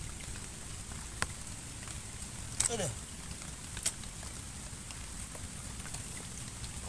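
Heavy rain falling outdoors during a freshwater tilapia fishing trip, a constant dense hiss with a few sharp knocks and rustles nearby, while someone speaks briefly.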